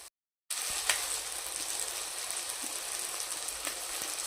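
Garam masala and chili powder frying in oil in a pan for paneer keema rice, a soft, steady hiss of sizzling after a brief silent gap, close and even, without talking.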